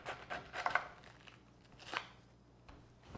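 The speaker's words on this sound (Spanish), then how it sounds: "Vamos a estar cortando nuestra bola de repollo por la mitad." A knife cuts a head of cabbage in half, giving a few short crunchy chopping and splitting bursts close up, with a louder cluster early and another sharp crack near the middle.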